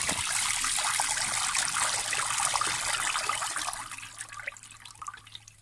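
Water drained by hand from an LG washing machine with an OE fault that will not empty or spin, a steady rushing pour that gradually thins to a trickle and scattered drips.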